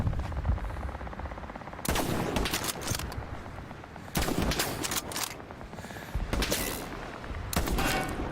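Bursts of rifle and machine-gun fire in the Hell Let Loose World War II shooter, loud and close, coming in several sharp volleys separated by brief lulls, with no talking.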